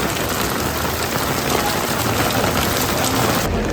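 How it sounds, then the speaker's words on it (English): Steady rain pours down at the city wall of Kotor's old town in Montenegro, a dense, even hiss of drops on surfaces that stays loud and unbroken. "The rain is coming down now, man. It's coming down now."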